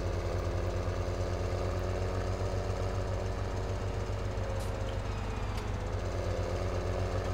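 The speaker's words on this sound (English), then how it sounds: "So we got the stump cutter here, which also looks kind of dangerous." A stump cutter machine in Farming Simulator 17 runs with a steady, loud mechanical drone and rapid rhythmic chatter, holding constant with no pauses.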